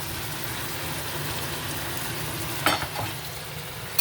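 Jamaican saltfish frying in a pan, a steady close sizzle with a brief louder clatter and scrape as the pieces are stirred partway through, and no talking.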